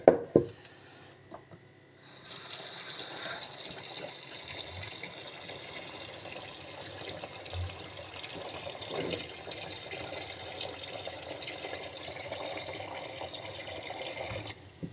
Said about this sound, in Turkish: Şimdi buna suyumuzu ilave ediyoruz.